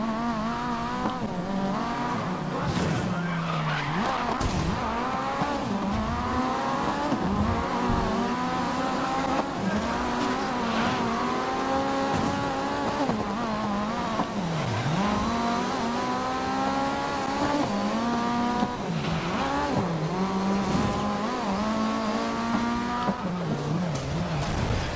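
Race cars in the GRID racing game roar continuously at close range, engines revving up and down over squealing tires through a busy stretch of contact-heavy racing.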